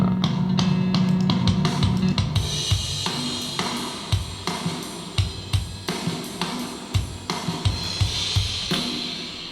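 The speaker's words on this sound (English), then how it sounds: "So first, for the drums, I'm using Superior Drummer 3." Drums from the Superior Drummer 3 plugin running in Reaper: a dense cymbal-heavy passage gives way to a steady rock beat of punchy kicks, snare hits and crashes, played clearly with no talk.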